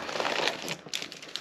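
Foil Pokémon booster pack, a Japanese Wild Force release, being torn open by hand: a burst of close, crinkly ripping and rustling, loudest at the start, then scattered lighter crackles of wrapper handling.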